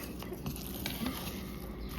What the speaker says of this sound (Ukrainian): Наче як добре перемішався сир.